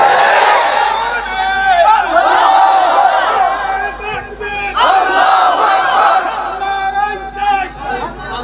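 A large crowd chants Jamaat-e-Islami political slogans in unison, loud rhythmic shouted phrases in repeated waves with a voice leading, dense and close throughout.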